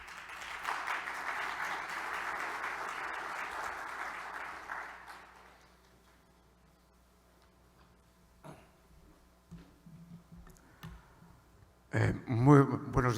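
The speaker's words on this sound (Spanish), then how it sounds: "Lo recibimos con un fuerte aplauso." An audience applauds to welcome a speaker at a maritime industry conference, a steady burst of clapping for about five seconds that fades out, followed by quiet room noise, a few clicks and brief talk.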